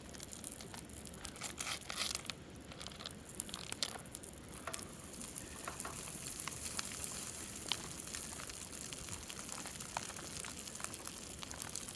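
Rice tipped into a frying pan on a camp stove at a lakeside campsite crackles and sizzles in a dense, fairly quiet stream of sharp pops and hiss that builds slightly over time, with no talking.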